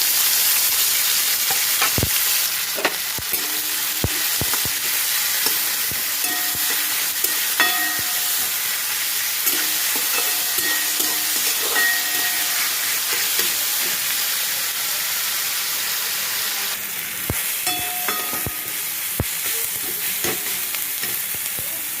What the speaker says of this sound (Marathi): याच्यामध्ये थोडंसं तेल टाकायचं आणि हे जे इन्ग्रेडियंट आहे ते भाजून घ्यायचं